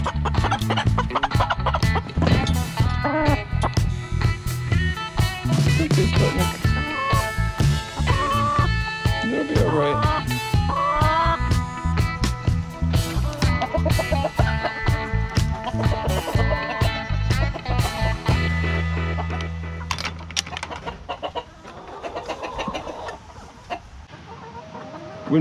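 Chickens cluck loudly and continuously up close, a busy overlapping flock around a mobile coop, with a person talking over them and the clucking thinning out near the end.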